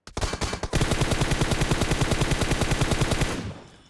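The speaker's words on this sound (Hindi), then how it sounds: "ये जो बंदा है ये बाहर से फायरिंग भी कर रहा है हम दोनों पे" Rapid automatic gunfire from PUBG Mobile rattles out in a dense, evenly spaced burst of loud close shots lasting several seconds before cutting off, with no talk over it.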